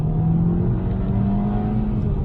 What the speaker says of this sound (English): second gear, you can feel the turbo come on